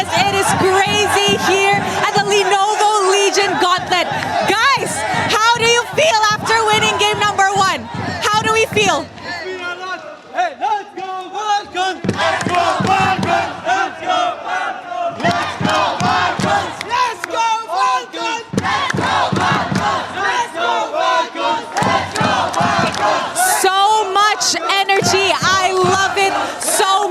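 A loud, dense crowd at an esports tournament, the Lenovo Legion Gauntlet playoffs, cheers and roars in sustained bursts with brief dips, chants and yells layered over announcer-style talk.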